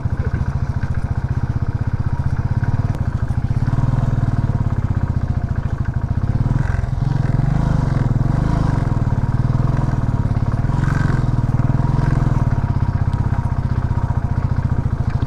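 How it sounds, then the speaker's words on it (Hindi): A motorcycle rides a mountain road on the way to Saach Pass, its engine a loud, continuous close-up drone with rattling clatter and shifting rev tones throughout. "बाइक अच्छी चल रही है।"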